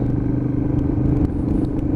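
A Royal Enfield Himalayan 400cc motorcycle with the throttle rolled off gives a steady, loud, low exhaust growl close by, with faint clatter on top and no talk.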